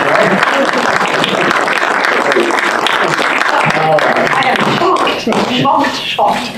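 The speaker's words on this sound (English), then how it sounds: "let's big round of applause for Lady Gabriel, who wrote this letter" Dense, continuous audience applause fills a lecture hall at NYU, steady and close, thinning slightly near the end as talking starts to come through.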